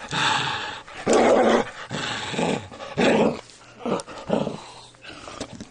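A pet dog pretends to be mean, making a string of loud playful growls and roaring snarls in short bursts with brief pauses between them, close by and with no talking.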